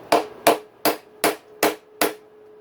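A long bolt hammers against a blind puller to extract the bearing from a dirt bike steering stem: six sharp, evenly paced metallic strikes ring out close by, with no voices.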